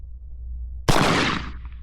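A single loud, sharp shot from a Schofield revolver cracks out close by after a low background hum, then rings and decays over about a second.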